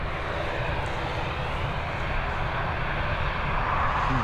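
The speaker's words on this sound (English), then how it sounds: "There she is, the A320 down safely" An Airbus A320 airliner lands at Dublin Airport, its broad engine roar steady and moderately loud over a few seconds, with no one speaking.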